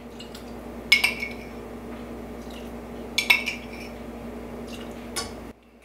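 A utensil clinks against a bowl while lemon juice is mixed into gluten-free lemon sandwich cookie dough, with three scattered sharp knocks over a low steady background hum.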